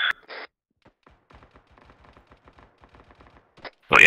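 Distant automatic gunfire in the military game ArmA 3, a faint, sparse string of crackling rounds and short bursts, with louder radio-like noise bursts at the start and end.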